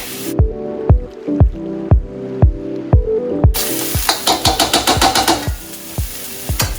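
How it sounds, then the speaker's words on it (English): Onions and garlic fry in a pan for steak fried rice, a sizzle that swells loudly partway through, punctuated by sharp, regular scraping and knocking strokes of a utensil against the pan, close and with no voices. "Once the onions start to get a little bit clear, a little bit translucent, in with the garlic."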